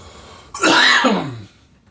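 A single sharp, explosive cough bursts out after a brief quiet, then trails off into a rough, throaty rasp lasting about a second.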